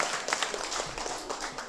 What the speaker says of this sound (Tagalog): Atong padawaton sa masitang palakpak.